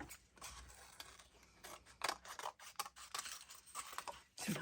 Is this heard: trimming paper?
yes